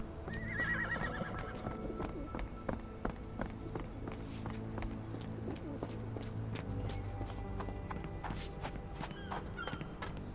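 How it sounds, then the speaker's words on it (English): Horse in the Sherlock Holmes: The Awakened game whinnying loudly near the start, with clip-clopping hooves and steady footfalls continuing throughout amid faint birdsong. "¿Un caballo echado?"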